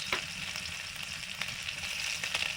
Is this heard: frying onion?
yes